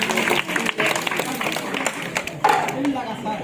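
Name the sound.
audience clapping at street monkey show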